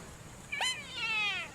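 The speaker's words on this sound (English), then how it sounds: "Hello, cat." A cat gives a single short meow, rising then falling, fairly faint against quiet room background.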